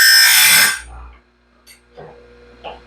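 A grinder sharpens a DIY sawmill band blade near the weld seam with a loud, harsh burst that dies away after under a second, followed by faint scattered clicks and scrapes.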